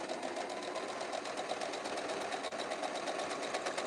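A sewing machine chain-piecing quilt blocks runs continuously and fairly quietly at a steady, even speed, its rapid needle chatter filling the whole stretch without pause.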